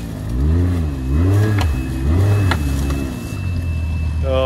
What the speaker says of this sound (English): Keep giving it gas.